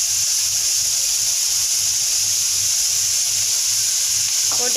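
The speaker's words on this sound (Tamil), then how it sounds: "எண்ணெய் கொதித்த உடனே ஆனியனை எடுத்து அதில் வந்து போட்டுடணும்." Onions frying in hot oil for paneer vegetable fried rice, giving a loud, steady sizzle and hiss that holds evenly throughout with no break.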